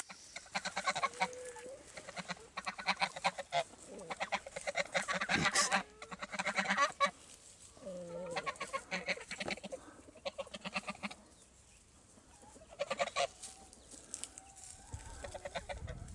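Domestic free-range geese honking, loud, repeated nasal calls in irregular bursts from several birds close by, with other poultry clucking and brief gaps between bouts.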